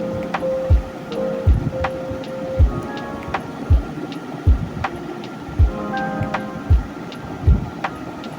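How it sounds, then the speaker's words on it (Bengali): Chicken pieces frying in hot oil until light reddish-brown for a chicken roast: a steady crackling sizzle with regular soft low thumps, moderately loud, no talking. "আমি এখন উঠিয়ে ফেলবো সবগুলো আমি এভাবে ভেজে নিতেছি"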